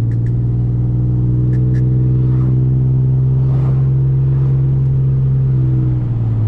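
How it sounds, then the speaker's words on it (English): A Ford Sport Trac's engine drones with a deep, steady exhaust rasp while driving after a fan conversion, a constant low rumble from up close with a few faint clicks. "I usually don't like this exhaust that much in terms of the rasp"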